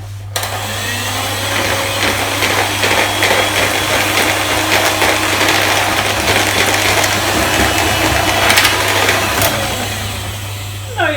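An electric mixer whisks cake batter with milk for a fruit crumble cake, a loud continuous motor whine with a steady hum, running without pause throughout.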